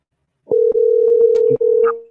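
A telephone dial tone sounds after a call is hung up. It is one loud, steady tone held for about a second and a half, broken by brief clicks, with no talking.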